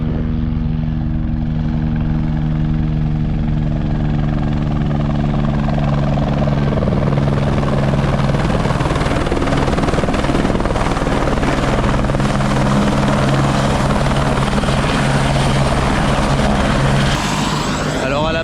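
A sightseeing helicopter over New Zealand's Tongariro, White Island and Rotorua area drones loudly and steadily, its rotor and engine hum filling the whole stretch, close by and continuous.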